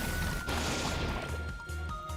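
An Acid Spray attack lands in battle in Pokémon Scarlet, a dense crashing splash of effect noise that swells and then settles over a steady low game soundtrack.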